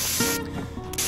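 An aerosol spray can hisses in a short, steady burst as paint coats a Peugeot 107 rear spoiler, close and loud with a brief dip partway through.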